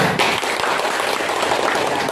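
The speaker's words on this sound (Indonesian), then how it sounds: "Tepuk tangan dulu." Students clap together in a junior high school classroom, a dense, steady burst of applause lasting about two seconds, close and fairly loud with no talking over it.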